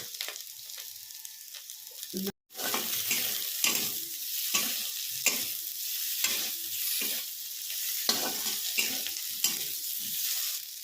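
Potatoes fry on high flame in a kadhai until golden brown, giving a bright, continuous sizzle broken by regular stirring strokes and one brief dropout near the start; no voices.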